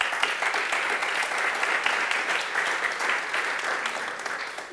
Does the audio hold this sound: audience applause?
yes